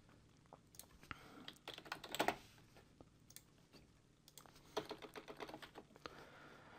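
Computer keyboard typing at a desk, faint and close, with irregular clusters of key clicks in two bursts separated by brief pauses.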